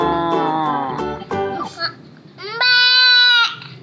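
A person's voice imitates a goat's bleat several times during play with toy animals, with short wavering pitched calls followed by a longer sustained bleat near the end.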